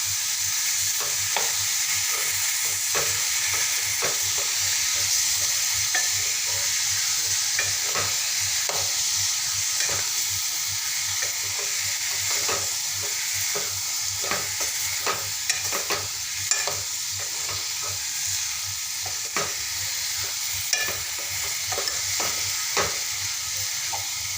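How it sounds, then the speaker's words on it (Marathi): Mixed vegetables for veg Kolhapuri fry in a pan with a constant, even sizzle, while a spoon stirs and scrapes the bottom in irregular clicks and taps throughout. "आता छान मस्त खालवरपर्यंत असं परतून घेणार आहे एकजी होईपर्यंत"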